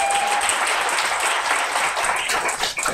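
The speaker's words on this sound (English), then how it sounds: "One more round of applause for all of them." A crowd at a literary festival showcase gives a sustained round of applause, dense and even clapping that holds steady to the end.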